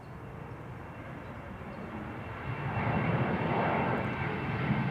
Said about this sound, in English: KLM Flight 962 is also leaving right now.